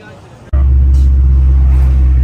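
A Pagani Huayra supercar at Monterey Car Week bursts in loud and close after a brief quiet moment, holding a deep, heavy engine drone while people talk nearby.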